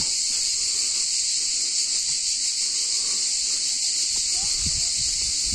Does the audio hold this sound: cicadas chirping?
yes